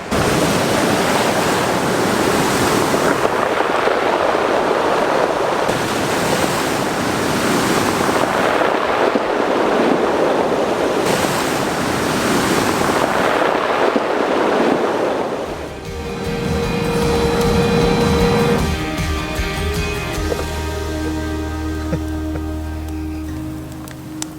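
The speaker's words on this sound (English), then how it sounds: "Those rocks coming down. Sounds like rain sticks." Loud, steady roar of surf washing over a stony beach on the California coast, with a rattling, rain-like hiss of tumbling pebbles; the sound shifts partway through.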